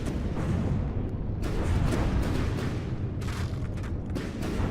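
Missile blasts strike a target in From the Depths, a dense barrage of booming explosions and rumbling detonations that rolls on continuously and loudly throughout.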